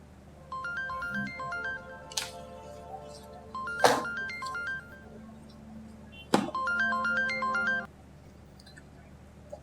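A telephone ringtone plays in a Pakistani TV drama scene, repeating in a bright, melodic pattern over several bursts, with a few sharp thumps between them and no talking.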